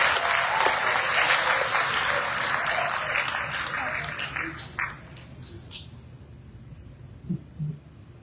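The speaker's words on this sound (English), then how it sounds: "I was going to ask for an applause on that" Audience applause at a South African election results announcement, loud and sustained broadband clapping that gradually thins and fades over the final seconds, with a few scattered claps near the end.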